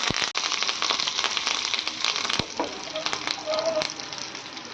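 Curry leaves hit hot tempering oil with garlic for pesara pappucharu, giving a steady close-up sizzle and crackle that runs through the whole moment, with a few sharp pops near the start.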